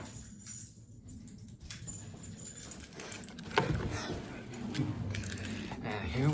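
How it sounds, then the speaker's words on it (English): Metal keys jangle and clink in short irregular bursts near the microphone while a record is being opened in an unboxing, with soft handling rustle between the rattles and no talk. "I'm gonna go grab my keys."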